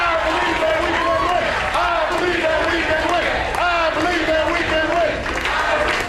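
White House staffers cheering together while watching a soccer game indoors, loud continuous crowd shouts and whoops with rising chants and scattered clapping throughout.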